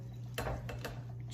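Food for an olive tapenade scraped and dropped into a mixing bowl in a home kitchen, a few soft clinks and taps of utensil against bowl over a low steady hum, quiet and close.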